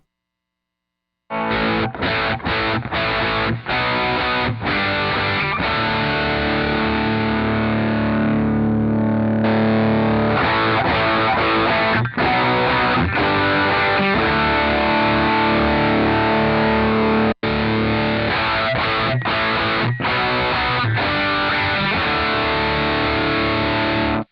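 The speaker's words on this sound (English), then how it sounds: "hitting that next overdrive pedal and saturating that sound going into the amplifier" Heavily overdriven electric guitar chords, thick and saturated, ringing continuously with brief rhythmic cuts and stops.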